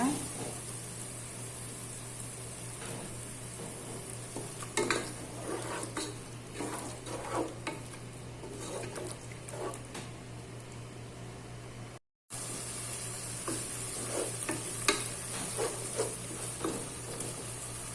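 Sautéed masala with added yogurt is stirred in a pan, giving soft scraping strokes and a low sizzle with a steady hum beneath. The sound is fairly quiet and cuts out briefly near the end.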